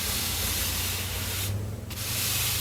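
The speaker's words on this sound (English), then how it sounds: "That's when I use this, and I just kind of rub down." Steady, close abrasive rubbing as a tool is pressed hard to spread hot wax across paper for homemade waxed paper, continuous with one brief easing partway through, and no voices.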